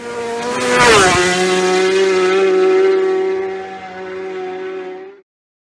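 Racing motorcycle at the Isle of Man TT, ridden by Michael Dunlop out of a corner at Laurel Bank, screams past close and loud with a sharp pitch drop, then a sustained high engine note that holds before cutting off abruptly.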